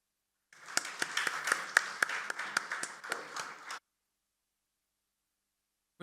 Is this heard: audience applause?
yes